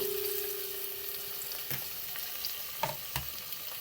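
Onion, hot pepper and garlic frying in a pan for Jamaican seasoned rice, a soft steady sizzle broken by a few quick stirring scrapes and taps, fairly quiet and with no voice.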